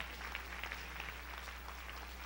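A church congregation at a Sunday evening service applauds in a sustained, faint wash of clapping over a low steady hum, with no voices standing out.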